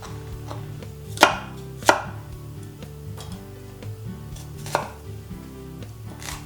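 A kitchen knife chops a tomato, stem included, into fine pieces on a board for a vegan Provençal quiche, with crisp, uneven taps and two louder strikes near the start, over a steady low background hum.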